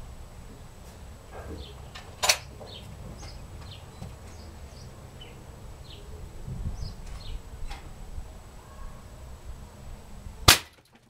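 An air rifle fires at a target with one sharp, loud crack near the end. An earlier, smaller snap and faint insect-like buzzing sit over a quiet outdoor background.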